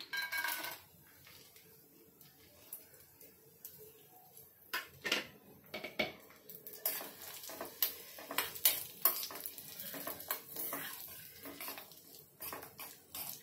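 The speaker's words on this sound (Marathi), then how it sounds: "एक चमचा तूप टाकूया आणि हे ड्रायफ्रुट्स भाजून घेऊया" A spoon scrapes and stirs dry fruits roasting in ghee in a thin pan over a soft sizzle, with irregular clinks and taps; no one talks.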